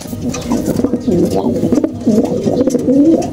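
A racing pigeon coos steadily and close by, with repeated low throaty phrases over several seconds and some people talking faintly in the background.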